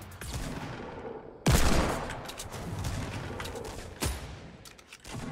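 Gunfire in the Fortnite: Battle Royale video game, a steady stream of rapid shots with two louder, sharper blasts standing out, heard without talk.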